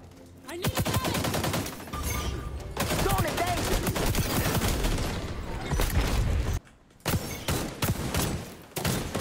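Rapid AK rifle fire in the video game XDefiant, dense bursts of loud gunshots running nearly continuously with brief pauses, a voice talking over parts of it.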